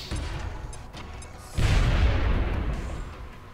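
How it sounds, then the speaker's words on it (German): A grenade detonating in the video game XCOM: Enemy Within, a deep booming blast that swells at about the midpoint and rumbles on, following a lower rumble of game ambience. "Dann haben wir da noch eine Granate hin"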